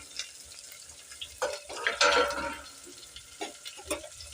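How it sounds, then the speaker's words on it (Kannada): Stirring in a pot of heating milk with peanuts and other ingredients added: soft spoon clinks and swirling, sloshing scrapes rising to a busier mixing stretch, fairly quiet and without speech. "ಇಲ್ಲಿ ಹಾಲು ಬಿಸಿ ಮಾಡಾಕಿರ್ತೀನಿ ರೀ ಮತ್ತು ಅದೆಲ್ಲ ಸೇರಿಸಿ ಬರ್ತೀನಿ ರೀ"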